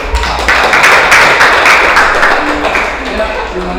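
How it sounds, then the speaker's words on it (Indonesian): A class of students applauds during a teacher's session, brisk dense hand clapping close by and fairly loud, fading slightly near the end. "Kasih tepuk tangan."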